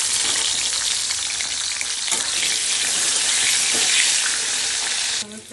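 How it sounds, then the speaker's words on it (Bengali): Brinjal (eggplant) pieces fry in hot oil for a Bengali curry, giving a loud, steady, dense sizzle that runs unbroken until it drops off abruptly near the end. "তেল গরম হয়ে গেছে, তো এখন আমি বেগুনগুলোকে ফ্রাই করে নিচ্ছি।"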